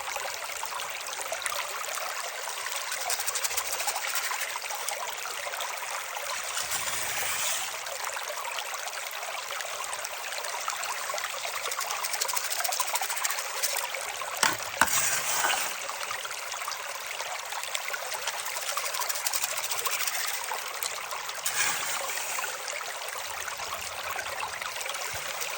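Water runs steadily through a gold sluice and drain mat at an inside river bend, a continuous close trickling wash that holds even for the whole stretch with no talk.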